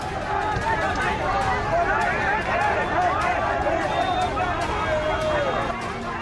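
An angry crowd of protesters blocking a road in Patna makes a loud, steady hubbub of many overlapping voices and shouts, close and continuous throughout.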